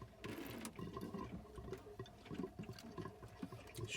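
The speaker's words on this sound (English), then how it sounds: "Shower." Running water from the shower in a 1997 Ford Transit Autosleeper Legend motorhome, fed by a pump, a steady close splashing flow with a faint mechanical whir underneath.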